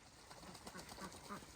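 Geese on a small farm give off repeated honks and quacking calls in a busy, moderately near chorus against outdoor background noise, with one louder call at the very end.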